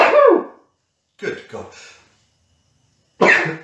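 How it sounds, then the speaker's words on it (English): A person gives one close, loud sneeze, then speaks briefly, and a second short throat burst follows. "I'm gonna sneeze."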